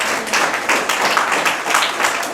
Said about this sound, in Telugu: చప్పట్లు కొట్టి ప్రభువుని స్తుతిద్దాం.